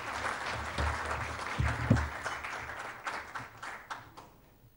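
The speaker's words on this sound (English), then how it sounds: "can we have a round of applause for our next speaker" Quieter applause at a televised roundtable welcoming next speaker Ram Madhav: scattered, moderate clapping with a few low thumps, thinning out and fading by the end.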